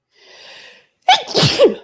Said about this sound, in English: Oh, that twine makes me sneeze every time.